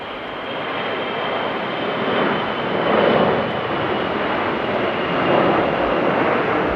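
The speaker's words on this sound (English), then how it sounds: "There we go, beautiful takeoff." A fixed-wing airliner takes off at Amsterdam Airport in rain and strong wind, a broad, steady engine roar that swells gently in waves, heard from a distance without talk.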